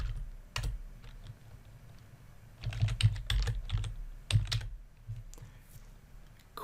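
Computer keyboard typing in irregular bursts of clustered keystrokes, close and moderately loud, with quiet pauses between flurries and no talking.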